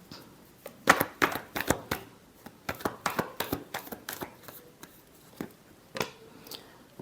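Tarot cards shuffled by hand close up, in irregular crisp riffling bursts and slaps spread across several seconds, with no talk over them.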